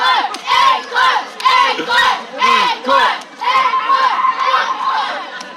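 A crowd of fans chants and shouts in loud, rhythmic bursts for a singer at a live show, the voices rising and falling in repeated waves.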